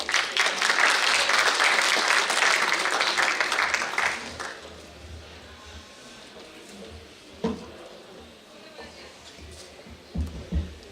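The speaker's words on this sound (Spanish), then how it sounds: "Un aplauso para él." Loud applause from a seminar audience at a smart-cities business talk, a dense patter of many hands for about four seconds, then fading into quieter room noise with a few scattered claps and knocks.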